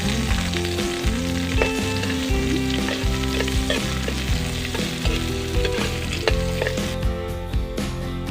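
Onion and garlic sizzle loudly in a hot frying pan, a dense steady crackle that runs throughout with occasional stirring scrapes, close up and without voices.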